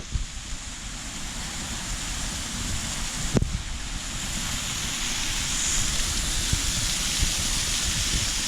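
Steady broadband rushing of a small waterfall beside a roadside in the Kumaon hills near Kasar Devi, constant and moderately loud throughout with a single sharp knock partway in, no talking.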